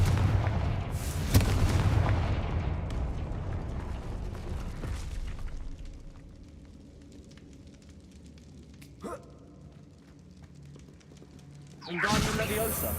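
Fiery blasting-spell explosions in the Hogwarts Legacy game: a loud boom up front that decays into a crackling rumble, a short sharp burst midway, then another strong blast near the end.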